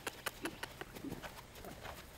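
Hooves of a horse working in a roundyard, a quick series of clip-clop impacts over the first second that soften and blur into quieter scuffing, fairly close and heard alone without talk.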